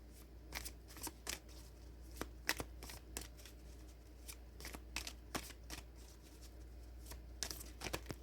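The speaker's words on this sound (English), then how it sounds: "We're going to pull the last feather tip card" Feather-tipped oracle cards are shuffled and drawn close up, quiet riffling bursts and papery flicks at an uneven rhythm over a low steady hum, with no talking.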